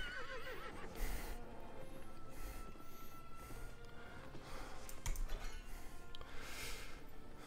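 A horse in the video game Albion Online gives repeated whinnies and snorts amid clip-clopping hooves and game effects, moderately loud, with no speech.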